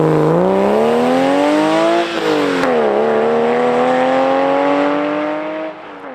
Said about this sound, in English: I put on an extremely loud exhaust, which honestly sounded amazing.